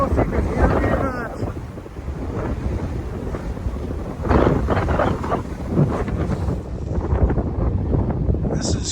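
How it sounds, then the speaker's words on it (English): Strong wind buffets the microphone at Jeanette's Pier on the coast in a steady, heavy roar, gusting louder at moments, with a voice faintly heard under it. "But it's just still blustery windy out here."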